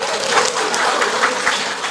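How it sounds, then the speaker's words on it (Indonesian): Applause for the husbands rises from a church congregation during a sermon, a dense, steady patter of many hands clapping at moderate distance for about two seconds. "Tepuk tangan dulu buat suami."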